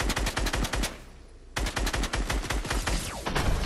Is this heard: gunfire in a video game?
yes